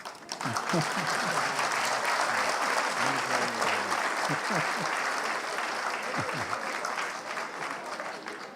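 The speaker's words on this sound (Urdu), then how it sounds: "کھل کے تالیاں بجا لو یار۔" A university mushaira audience breaks into loud, sustained applause, dense clapping at full strength with a few faint voices briefly audible underneath before it eases slightly toward the end.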